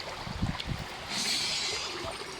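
Strong water current flowing along a riverbank, a steady rushing hiss that rises midway, with a few low thumps and splashes early on.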